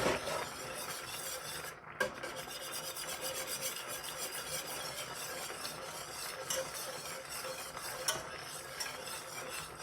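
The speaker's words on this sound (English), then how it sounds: "Just want to whisk this." A whisk scrapes steadily through hot cream sauce with freshly grated Parmesan, a continuous soft rubbing and stirring for about ten seconds, fairly quiet and close, with no talking.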